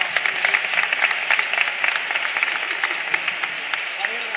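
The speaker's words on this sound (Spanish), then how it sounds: "Un aplauso para él también." A carnival chirigota audience breaks into sustained applause, many hands clapping in a steady, slightly uneven patter with occasional sharper claps, fairly loud and continuous throughout, with a faint murmur of crowd underneath.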